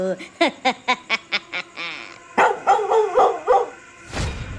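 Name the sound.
dog barking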